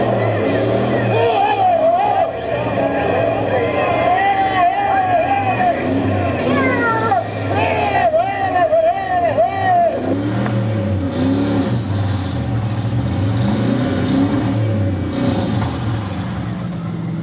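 Race cars, including a Buick wagon and the number 10 car, circle during a 1996 endurance race, their engines droning and wavering continuously at a distance while an announcer talks over them throughout.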